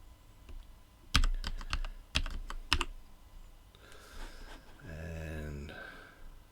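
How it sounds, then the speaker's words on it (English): Several sharp computer keyboard keystrokes arrive in short clusters, loud and close, followed by a stretch of quieter background sound with a voice speaking. "It might help if I type properly."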